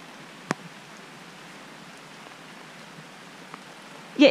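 Light rain patters softly and evenly onto leaves and surfaces near Lake Atitlán in Guatemala, a faint steady hiss broken by a single sharp drip or tap and a louder rustle at the very end.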